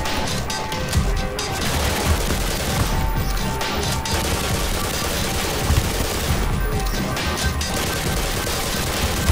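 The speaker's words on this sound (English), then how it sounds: "can you all mind not shooting at me and shooting at each other?" Enemy gunfire in the video game Black Mesa, dense rapid bursts of automatic shots and crashing impacts that keep up loud and continuous with brief pauses between volleys.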